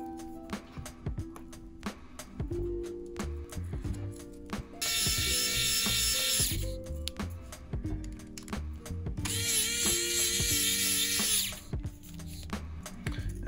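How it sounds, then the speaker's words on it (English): Small screws being driven into a Pavo30 PRO 6S cinewhoop frame with a ratcheting driver, heard as rapid clicking ticks, with two longer, louder bursts of whirring power-driver noise, close up and without talk. "I would put two screws in just to hold it in place."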